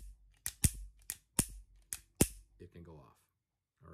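A revolver's hammer is released repeatedly, its firing pin striking with six sharp, close metallic snaps at a steady, slightly uneven pace, followed by a brief murmur of voice.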